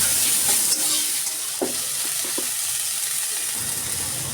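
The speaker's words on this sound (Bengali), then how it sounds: "সেই তেলের মধ্যেই কালো জিরে ফোড়ন দিয়ে দিতে হবে কেটে রাখা পেঁয়াজ আর কেটে রাখা কাঁচা লঙ্কা দিয়ে এটাকে অনেকক্ষণ ধরে ভেজে নিতে হবে" Onions and green chillies frying in oil with nigella seeds give a steady close sizzle and hiss, with a few soft stirring clinks and scrapes scattered through.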